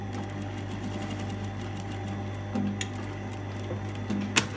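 A sewing machine stitches along the hem end of a woven dress skirt, a steady low motor hum with a quick needle rhythm and a few small clicks and clatters, moderately close and with no talking.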